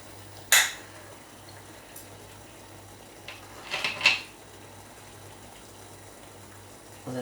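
Clams dropped one at a time into a pot of boiling water, giving a few sharp, separate plops and clinks spread over several seconds above a steady low bubbling hum.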